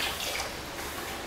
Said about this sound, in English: Now we're gonna pour out.